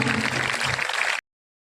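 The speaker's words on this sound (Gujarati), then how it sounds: "આપણે બધા તાળીઓ તો પાડશું" An audience claps together at an Independence Day school function in a village. There is steady, dense applause with some low background rumble, and then it cuts off abruptly to silence.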